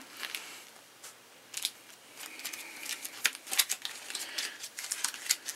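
Cards from a Tiny Epic Defenders Horde deck are shuffled by hand, giving soft, quiet bursts of papery riffling and flicks close by with brief pauses, no speech over them.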